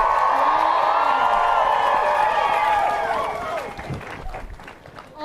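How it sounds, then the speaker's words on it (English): Crowd clapping and cheering at an outdoor climate strike rally in cold drizzle, a sustained round of applause with whoops that fades toward the end. "Let's give him another round of applause."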